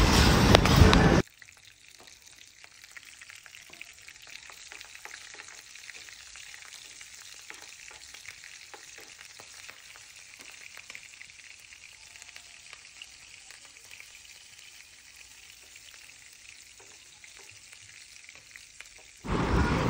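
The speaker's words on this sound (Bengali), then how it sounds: "কাঁচা মরিচগুলো কিন্তু ঠুস ঠুস করে ফুটবে এই সময়" Green chilies, cumin powder, cloves and cardamom sizzle in mustard oil as a tempering for beef kalabhuna. A steady, moderate frying hiss with faint pops runs throughout, bracketed by brief loud bursts at the very start and end.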